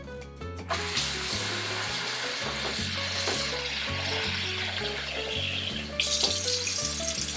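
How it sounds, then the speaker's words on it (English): Water poured into a pot packed with artichokes, a steady continuous splashing and gurgling stream, close and fairly loud, running alone throughout with a brighter surge near the end. "So now we're going to add the water."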